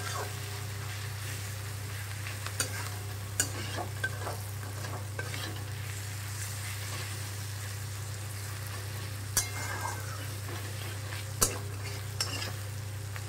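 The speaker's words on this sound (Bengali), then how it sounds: "সেটাকেও এই মশলার মধ্যে দিয়ে একটু নাড়াচাড়া করে নেব" Fried potato, boiled egg and prawns stirred through spice paste in a kadai with a spatula, giving a steady low sizzle over a constant hum, with a few sharp scraping clinks of metal against the pan.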